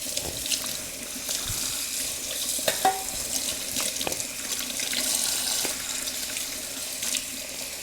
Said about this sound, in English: There is a drain stopper in there, so I'm not just pouring it down the drain.